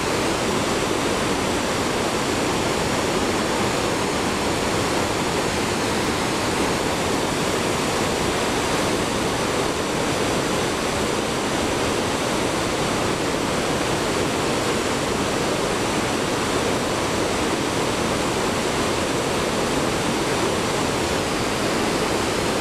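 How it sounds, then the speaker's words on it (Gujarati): A waterfall near Gangotri in the Himalayan Uttarkashi region roars as a steady, dense rush of water, loud and close, with no voices and no break for the whole stretch. "રાજેશ કુમાર ધોધ"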